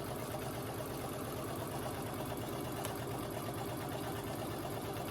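A sewing machine stitches scrunchie fabric in a quick, steady mechanical whir with a rapid, even stitch rhythm. It runs quietly and continuously for the whole stretch, with no voices.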